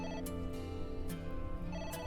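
A telephone rings in the video game AI: The Somnium Files, a steady electronic ring repeating in short bursts over background game music, with no one talking.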